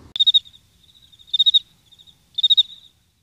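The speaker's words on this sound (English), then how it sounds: "the only sound you're going to hear is the sound of crickets in the room." Crickets chirp clearly with three bursts of rapid trilling pulses, evenly spaced against a quiet background, with a softer continuous chirp between the bursts.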